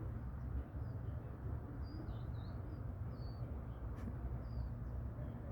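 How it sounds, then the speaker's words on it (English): Small birds chirp outdoors in short, scattered calls that sound faint and somewhat distant over a steady low background hum. "Can you hear the birds?"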